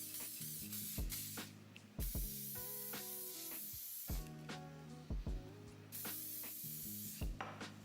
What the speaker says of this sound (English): I like to go ahead and spray the hairline with some hairspray and just brush everything back